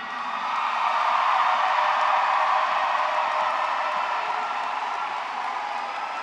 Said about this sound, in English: Audience, please join me in saluting the scholastic achievements of our scholars by extending a round of applause at this time.